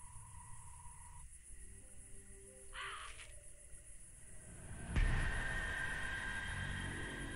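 Crow cawing in the video game Fran Bow: a couple of harsh caws near the middle, set among eerie game ambience with a sudden low rumbling swell near the end, no talk.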